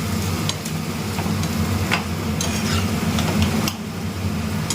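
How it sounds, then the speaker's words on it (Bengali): Egg bhujia being stirred in a pan at home, with steady scraping and clinking of a utensil against the pan over a constant low hum, close and moderately loud. "সুন্দর করে নাড়াচাড়া করবো।"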